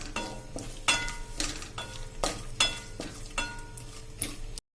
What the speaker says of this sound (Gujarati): હવે આને આપણે સેજ અમથું એવું અડધી મિનિટ જેવું રોસ્ટ કરશું ઘીમાં।